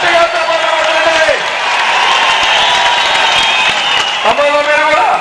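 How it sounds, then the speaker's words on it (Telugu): A crowd applauding at a political rally, with loud, dense clapping that fills most of the clip. Someone speaks over it at the start and again near the end. "గట్టిగా చప్పట్లు కొట్టండి."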